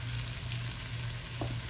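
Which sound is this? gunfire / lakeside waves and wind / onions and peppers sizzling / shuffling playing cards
onions and peppers sizzling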